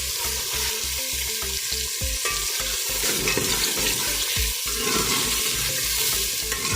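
Onions sizzle and fry in a pan until browned in a home-style curry preparation, with a dense, continuous crackle broken by repeated scraping stirs. It is close and loud, with no speech.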